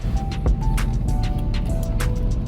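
Steady low road rumble inside a moving car with windows up, a constant muffled drone with faint tonal hums and occasional light clicks, no voices.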